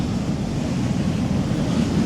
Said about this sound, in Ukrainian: Тут такі хвилі.